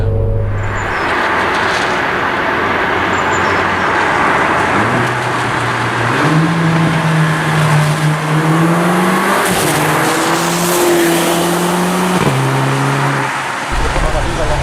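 A 2017 Mercedes A45 AMG engine in Sport Plus mode revs up and down in stepped, rising and falling tones, loud and close, with a voice faintly underneath.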